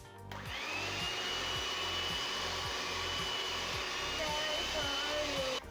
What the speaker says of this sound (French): On va mixer tout ça.